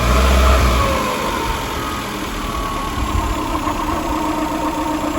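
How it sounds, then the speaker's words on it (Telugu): A 2021 Suzuki Super Carry BS6 mini truck, a one-tonne CNG/petrol model, runs with a steady mid-pitched engine drone, heard from inside while driving. It holds a fairly even level, louder at the start, with no talk. "ఇంజన్ నాయిస్ మాత్రం చాలా పర్ఫెక్ట్గా ఉంది"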